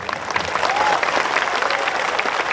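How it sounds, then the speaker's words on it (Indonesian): A burst of audience applause, dense clapping that swells and holds steady for a couple of seconds, with faint crowd murmur. "ayo tepuk tangan dulu."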